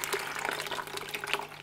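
Water gushing and splashing out of a shrimp shipping bag that was cut open too deep, a steady close liquid pour lasting under two seconds with no talking.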